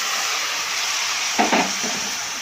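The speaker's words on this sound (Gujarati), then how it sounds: "ચાલો હવે નાખી દો બાફેલા ચણા" Boiled chickpeas drop into onions frying in a pan, and a brief clatter and rustle rises over a loud, continuous, close sizzle.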